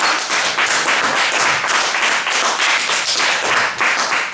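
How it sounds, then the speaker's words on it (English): Round of applause from an audience in a presentation room, rapid, dense clapping close by, steady and loud for the whole stretch with no talking over it. "give a round of applause"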